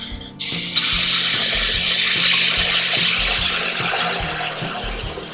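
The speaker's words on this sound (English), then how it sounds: "Now we'll start with water." Water pours into a pan to start a thin gravy for black pepper steak. It begins with a sudden splash, then settles into a steady, close rushing pour that slowly eases off, with no talking.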